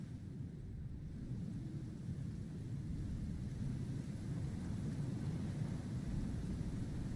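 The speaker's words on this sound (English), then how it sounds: "There is a tier 3 storm as well." A thunderstorm rolls in the survival game Icarus, a low, continuous rumbling roar that stays steady and fairly faint throughout, with no distinct thunder cracks standing out.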